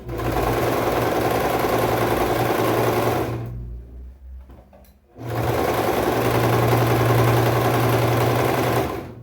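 A domestic sewing machine stitches knit fabric in a loud, steady mechanical whir. It stops briefly for about a second and a half of near quiet, then starts again and runs continuously to the end.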